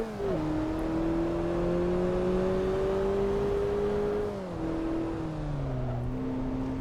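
A Mazda Miata engine in Assetto Corsa drones steadily at moderate revs, then dips as the driver lifts and shifts before pulling again; the in-car tone is smooth and close with no talking.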